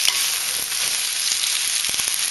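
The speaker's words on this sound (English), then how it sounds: "I'm just going to saute that up" Celery, mushroom and carrot sautéing in a pan give a steady, close hissing sizzle with a few faint crackles and light stirring sounds, no voices present.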